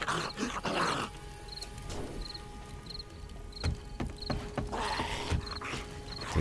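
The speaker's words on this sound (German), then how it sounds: "Ich habe Hunde gehört. Wo sind die Hunde?" Dogs bark and growl in the zombie survival game 7 Days to Die, heard amid game noise with a faint repeating high beep in the background.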